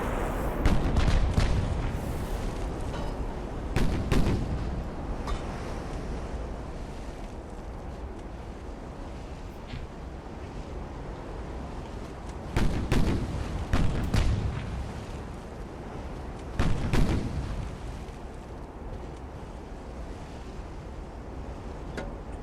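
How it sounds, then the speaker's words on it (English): Warship guns firing at a destroyer in a naval battle in Ultimate Admiral: Dreadnoughts, several heavy booming salvos spaced several seconds apart over a steady rumble of wind and sea. "I'm just going to leave the guns to do their thing against the other destroyer."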